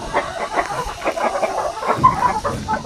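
Native chickens cluck and call in their coop, a steady stream of short, fairly close clucks with no one talking.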